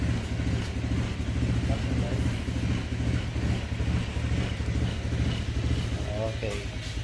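A Honda Click 125 V3 scooter engine runs at a steady idle close by, an even low putter throughout, with a voice talking over it near the end.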